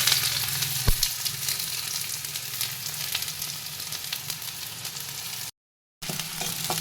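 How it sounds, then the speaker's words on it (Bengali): Onion frying in hot oil with nigella seeds, a steady hissing sizzle close by with an occasional light knock, broken by a brief total dropout near the end. "প্রথমে পেঁয়াজটাকে লাল করে ভাজবো"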